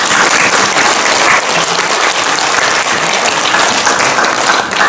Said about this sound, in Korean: 이렇게 인사할 사람만 박수 한번 쳐봐